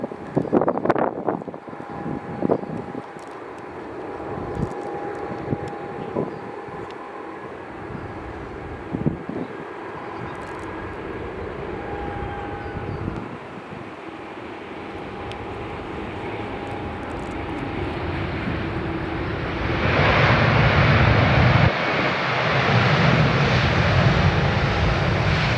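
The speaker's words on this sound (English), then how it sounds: "here is a little EasyJet from Edinburgh" An EasyJet passenger jet from Edinburgh at London Stansted Airport, a steady engine roar that builds gradually and grows loudest near the end, with wind buffeting the microphone.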